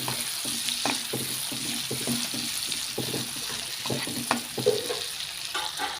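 Mushrooms fry in a pan for a creamy garlic dish, a close continuous sizzle punctuated by regular scraping stirs and occasional clanks of a utensil against the pan, no voices.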